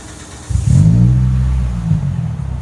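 A 2005 Toyota Corolla XRS with a 1.8L engine, six-speed manual and Megan Racing exhaust revs up close by, a deep droning rumble that rises sharply and then holds steady and loud.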